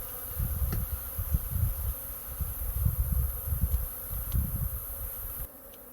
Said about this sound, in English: With all the bees behind him.